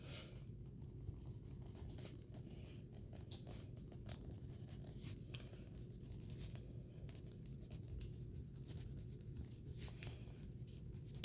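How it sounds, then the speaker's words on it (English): Pen writing on paper, faint close scratching strokes in short irregular bursts over a low steady room hum, with no talking. "And I'm going to write that down."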